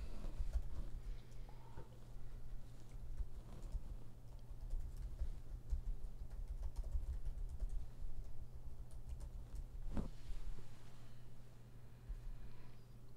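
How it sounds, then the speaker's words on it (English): Typing on a computer keyboard, with rapid uneven clicks and taps in close, quiet bursts over a low steady hum, and no talking. "I'm going to type this up here."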